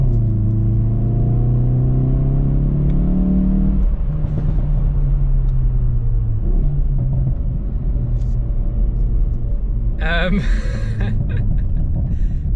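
A 2022 Hyundai i30 N engine revs hard under acceleration, rising in pitch through the gears, with a loud close drone, a shift change and a short crackle near the end, and someone talking over it.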